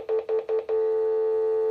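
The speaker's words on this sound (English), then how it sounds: "I'm going to press the speakerphone just to give you a sense of how loud this is" A fixed wireless 4G VoLTE landline phone on speakerphone sounds four short, evenly spaced beeps, then one steady sustained tone, clear and fairly loud in a quiet room.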